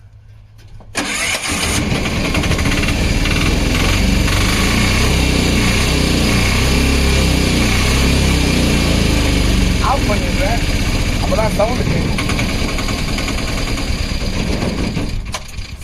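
A Piaggio Ape load auto fitted with a new battery and a push-button self-starter fires up after a brief crank, then holds a loud, close, steady idle with a rattling mid-range drone, while someone talks.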